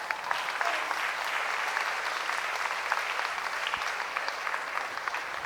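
At a ballet academies' closing ceremony, an audience bursts into dense, sustained applause that stays loud and even from start to finish, with no speech over it.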